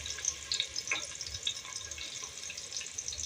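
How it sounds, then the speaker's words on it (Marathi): Sliced onion fries in hot oil in a pot, a faint, fluttering sizzle with light watery crackles and spits, quiet and close. "इथे तेल तापत ठेवले आणि तेलामध्ये स्लाइस केलेला कांदा घातला आहे।"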